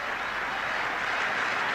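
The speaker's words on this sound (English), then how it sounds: "Let's just dwell on the applause that this young man is going to get" Dense, steady crowd applause fills a cricket ground in Sharjah as spectators rise after Sachin Tendulkar's innings in the 1998 Australia vs India final, a continuous roar of clapping heard from a distance.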